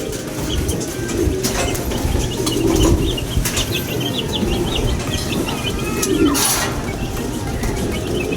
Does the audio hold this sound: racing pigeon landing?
yes